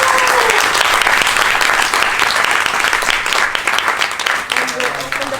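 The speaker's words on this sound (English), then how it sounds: "Let's give a round of applause to Pak Made." Loud, sustained applause from an audience at a talk in Bali. The dense clapping runs the whole length and eases slightly near the end, where a voice begins to come through.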